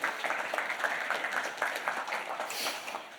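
Audience applause at a tech conference show on stage, a steady wash of many hands clapping throughout, moderately loud, with a brief swell near the end.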